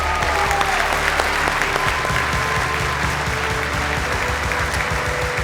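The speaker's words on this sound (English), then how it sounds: "warm round of applause from the champ for the Western Bulldogs, Marcus Bontempelli" A crowd at an AFL awards event applauds steadily, many hands clapping together in a dense, sustained wash of sound across the whole stretch.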